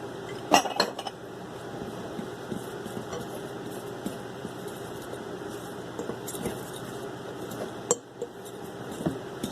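A spoon clinks against a bowl while a beaten egg is stirred into pie crust dough, giving scattered light taps and a few sharper clinks close by over a low steady background.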